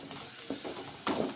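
Sliced onions with two cloves sizzle in hot oil for a chicken fry, with soft steady frying and a few brief louder bursts as the pan is stirred.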